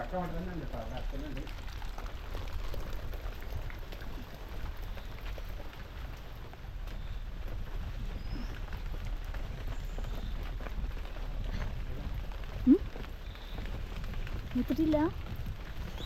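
Steady rain falling outdoors during an evening downpour in Kerala, a continuous soft hiss that holds throughout at moderate level and eases slightly, with no talk in the clip.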